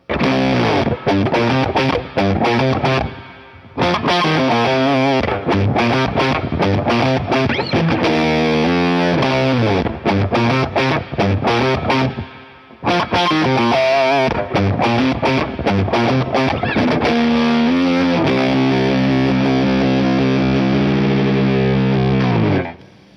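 A heavily fuzzed electric guitar played through a Fuzz Face pedal into a Marshall amp plays a gritty, sustained riff with brief pauses, thick and saturated, ending on a long held chord.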